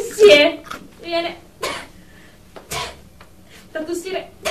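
Several separate, sharp coughing bursts come from one person, close up, with short pauses between them and some vocal sounds mixed in.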